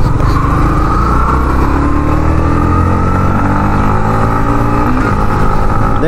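A Yamaha MT15 BS6 motorcycle engine revving as it accelerates on an open road, loud and close, with rising engine tones and strong wind rush throughout.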